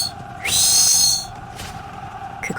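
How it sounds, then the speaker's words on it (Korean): A high, wavering pipe whistle sounds once for under a second, low and tremulous like a birdcall, followed by a faint second note amid quiet background hum. "그것은 김노인이 고개를 숙인 채 소매 속에 숨긴 손으로 조심스럽게 불어낸 피리 소리였습니다."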